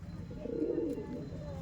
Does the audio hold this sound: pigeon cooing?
yes